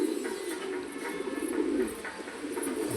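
A black pigeon coos in low, soft repeated phrases, close by and continuous, with faint chirps from other birds around.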